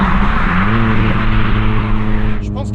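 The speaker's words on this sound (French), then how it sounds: "Quand tu vas accélérer, j'ai l'impression qu'elle monte très vite dans les tours et en fait, elle coupe vite." The engine of a Ford Focus RS Mk1 revs hard and loud up close, holding a dense, buzzing high-rpm roar before cutting out abruptly near the end, as if it hits the rev limiter; faint speech sits under it.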